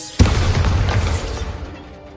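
A Bombarda explosion spell goes off in Hogwarts Legacy: a single sharp, loud boom that bursts suddenly and rumbles away over about two seconds.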